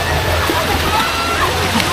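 Water flows and splashes steadily into a pool inside a cave, a continuous close wash of sloshing, with a person talking over it.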